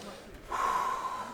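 A fighter in his corner between rounds of a PFL Challenger Series mixed martial arts bout takes one deep, close, audible breath, with an ambient arena hum underneath.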